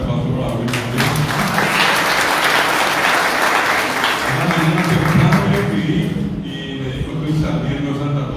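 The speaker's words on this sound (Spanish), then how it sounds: "Un fuerte aplauso para Luis Fretes." Warm applause fills a hall at an inauguration event for Guarani Language Month and a book homage, as an audience claps steadily for an honoured guest. The sustained clapping stays loud and even throughout, with a faint voice underneath.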